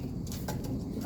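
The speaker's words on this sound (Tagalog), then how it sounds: "umuwi yung dalawang ibon natin" Racing pigeons coo softly at their home loft after returning from a 400 km race from Aparri, with faint, low murmuring calls under a quiet background hum.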